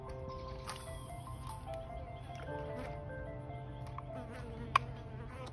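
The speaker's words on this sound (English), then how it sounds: "I apologize if you hear a bunch of buzzing and stuff" Steady insect buzzing hums close by throughout near a garbage can, with faint background noise and a brief sharp tick near the end.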